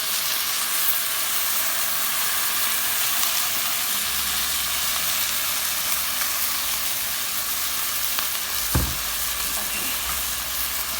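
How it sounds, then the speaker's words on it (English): Salsa hits a hot pot and sizzles in a continuous loud hiss, with a low rumble joining midway and a brief knock near the end. "I'm gonna throw the salsa in the pot and just throw it in there"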